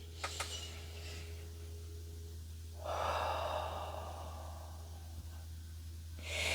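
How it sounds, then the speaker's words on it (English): Heavy, laboured breathing sounds close up, with sharp gasps and snorts, then a long rasping exhale before more gasping near the end, with no talk over it. "I'm having a hard time breathing here"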